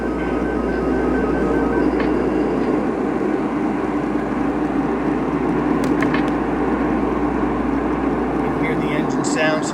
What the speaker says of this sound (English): let's go ahead and start up the engine now that we've got that out of the way